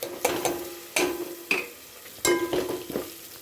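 Onion and ginger-garlic paste frying in a pan, with intermittent stirring scrapes and clatters over a steady low sizzle, close and moderately loud.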